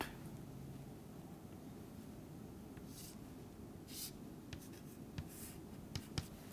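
A pen or chalk writes out a geometry derivation in faint, scattered scratches and taps, brief strokes spaced irregularly over quiet room hiss, soft and close.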